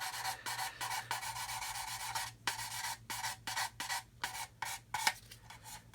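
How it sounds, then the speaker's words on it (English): Rhythmic back-and-forth strokes of a zebra sanding stick rubbing a model kit surface smooth, close up and dry, each pass a short rasp with brief pauses between. "the trouble is with sanding with worn sticks, you induce heat"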